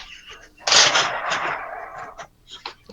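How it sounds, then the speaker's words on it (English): Car crash over an amateur radio transmission, a sudden loud, harsh burst that decays over about a second, followed by a few fainter scattered noises. "Somebody just had a crash in a car,"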